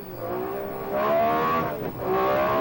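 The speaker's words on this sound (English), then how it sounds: "Listen to that V6 engine just roar." A Metro 6R4 rally car's V6 engine roars at a rally stage event in Barbados, loud and close, rising in pitch as it revs and shifts, heard alone with no voices.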